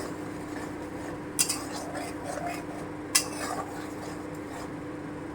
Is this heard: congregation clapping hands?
no